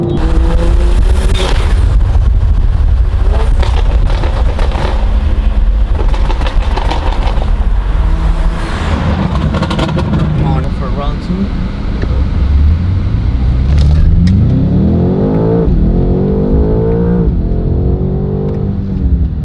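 A very loud car accelerating hard on a pull to 5,500 RPM, the engine roaring and rising in pitch through gear changes, with wind buffeting, close and sustained.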